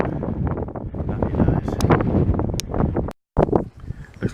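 Strong wind buffets the microphone at a coastal clifftop viewpoint, a loud continuous roar with gusty rustling that cuts out briefly before resuming.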